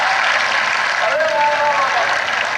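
An audience applauding at a poetry recital during a mushaira in Lucknow: a dense, steady wash of clapping throughout, with a voice faintly audible beneath it.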